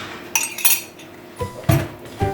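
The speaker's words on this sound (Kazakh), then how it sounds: "әбден жақсылап араластырып ерітіп аламыз жұмыртқаға." Eggs being mixed with sugar and salt in a bowl give several separate clinks and scrapes of a utensil against the dish, close by and moderately loud, with no voices.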